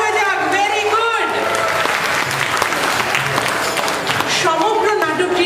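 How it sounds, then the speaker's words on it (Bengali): An audience at a live stage performance of the play GolMaal claps loudly for a performer named Raina, the dense applause steady and close throughout, with a voice briefly heard over it at the start and end. "Raina জন্য জোরে হাততালি হয়ে যাক"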